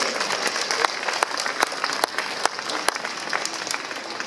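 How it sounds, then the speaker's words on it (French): Applause from an audience at a municipal Liberation of Paris commemoration ceremony at the 15th arrondissement town hall, with steady clapping throughout and a few sharper individual claps standing out. "Nous pouvons les applaudir"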